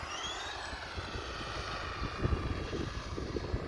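An RC car with a new motor runs at full throttle, a near, high whining motor tone with rising pitch over steady rumble and scattered small knocks.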